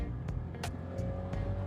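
A 2023 Volkswagen Polo Highline, a 116 hp car, is pushed hard under acceleration, its engine a steady loud drone with faint mechanical ticks over it, no voices.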